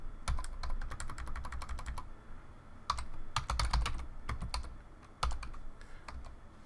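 Typing on a computer keyboard: quick clustered bursts of light key clicks with short pauses between runs, close and fairly quiet.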